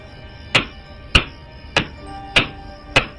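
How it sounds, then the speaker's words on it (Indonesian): Five sharp, heavy knocks at steady intervals, each a hard hammer strike against a wooden bedroom door with a short ringing decay, fairly close, no talking. "pintu kayu kamarku itu bukan diketuk dengan tangan, tapi seperti diketuk dengan palu"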